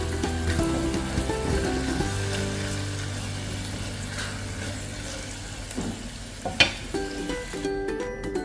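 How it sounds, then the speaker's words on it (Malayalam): Chicken frying in a pan with turmeric, chilli powder and pepper powder, a steady close sizzle with occasional utensil knocks and scrapes toward the end. "പാനിലേക്ക് ചിക്കൻ ഇട്ട് കൊടുത്തിട്ടുണ്ട്"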